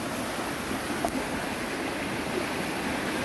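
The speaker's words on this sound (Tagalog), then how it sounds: "Ito na nga guys yung pangatlong sapa." A rural creek being crossed on foot, its water rushing and babbling steadily at close range as a continuous broadband wash with no voices.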